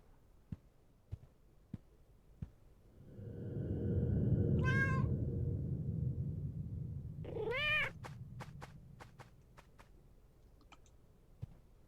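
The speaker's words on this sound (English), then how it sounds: "So maybe the apartment has a cat?" A cat in an apartment complex in the video game Nightmare of Decay gives two clear meows a few seconds apart over a swelling low rumble, with scattered soft clicks before and after.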